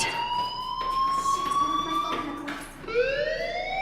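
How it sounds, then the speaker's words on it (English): A fire alarm in the Life Is Strange video game, sounding as a steady electronic tone with harmonics, rising in pitch near the end and ringing continuously at close range without talk. "do you hear that fire alarm?"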